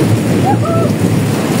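Heavy rain pours during a storm at an outdoor boodle fight meal, a loud, dense, unbroken hiss with a faint brief tone rising over it midway.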